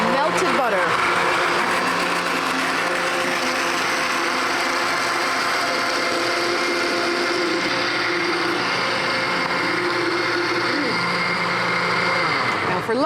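A blender whirs continuously as it mixes hollandaise sauce with melted butter, a loud, steady motor drone that shifts pitch slightly at the start and around ten seconds.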